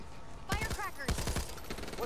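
Rapid firecracker pops in the Back 4 Blood video game, a burst of sharp cracks between roughly half a second and two seconds, loud and close, with no talk over it.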